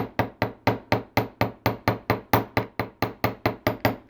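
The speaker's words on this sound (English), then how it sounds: "Go ahead and hammer the second one." A hammer strikes a wire frame component for Art Deco style wire weave chandelier earrings: about seventeen sharp, evenly spaced metallic taps in quick steady rhythm, close and loud, with no talking.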